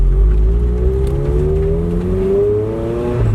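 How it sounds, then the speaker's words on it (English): A V8-swapped Nissan 240SX engine runs loudly up close, holding a rough idle and then revving with a rising pitch over a few seconds, with no talk. "You guys can hear the beautiful noises this car makes."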